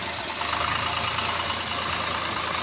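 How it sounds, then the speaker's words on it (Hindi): A Swaraj 735 tractor engine idles steadily nearby with a throbbing mechanical drone, running alone without speech. "ट्रैक्टर हमने स्टार्ट कर दिया है"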